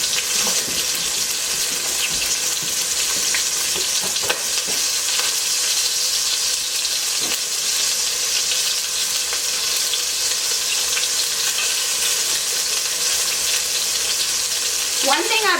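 Chicken sizzles and fries in a pan for chicken alfredo, a steady bright crackle running unbroken the whole time, with occasional stirring clinks and a faint bit of tap water near the end.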